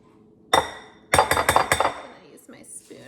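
A spoon scraping and clinking against a baking dish while spreading a thin layer of sauce on the bottom for zucchini ravioli. One knock comes first, then a rapid run of sharp clinks, loud and close, with no talking.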